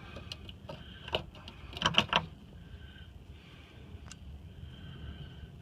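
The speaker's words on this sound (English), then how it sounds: "Ratcheting wrenches rather." Ratchet wrench clicking on a 14 mm bolt while dropping the gas tank of a 1998 Jeep Grand Cherokee, with quiet bursts of fast metallic ticks around the middle and a single faint click near the end.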